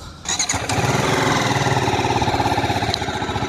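A TVS Apache RTR 310 single-cylinder motorcycle idles steadily close by, a throaty pulsing exhaust note with a rapid, even thump and no voices.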